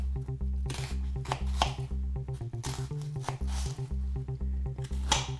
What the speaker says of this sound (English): So I'm gonna cut that.